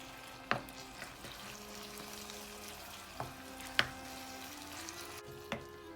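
Oyster mushrooms sauté in a pan, giving a quiet, steady sizzle with a few sharp utensil taps as they are turned, close and faint.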